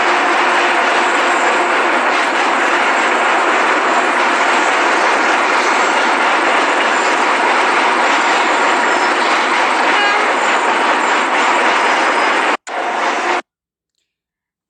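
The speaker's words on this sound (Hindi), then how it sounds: "एक वीडियो दिखाती हूँ जिसमें आप एक ट्रेन को रेलवे ब्रिज से गुजरते हुए" A train rolling across an iron railway bridge gives a loud, continuous rumble with metallic clatter that holds steady for over twelve seconds before stopping abruptly, followed by a brief burst and then silence.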